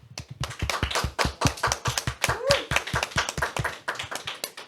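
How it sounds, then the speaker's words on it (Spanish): Audience applause closing a Spanish-language faith talk segment, a fast run of loud, sharp claps that rises and falls in waves, with a brief voice cutting in near the middle. "Despedimos con un fuerte aplauso a Alejandro Ortega."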